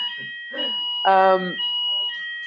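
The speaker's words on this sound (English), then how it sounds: "Sorry, there's just a fire alarm." A fire alarm rings with a steady, continuous high tone throughout, while a voice makes brief sounds over it.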